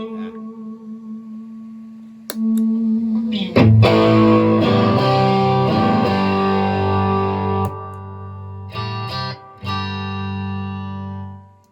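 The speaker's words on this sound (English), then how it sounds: "Which is kind of a cool rhythm guitar sound." An electric guitar plays through an Allston mk-III effects pedal, distorted, shimmering rhythm chords ringing out loud with sustained tones and short pauses between strums.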